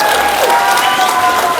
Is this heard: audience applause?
yes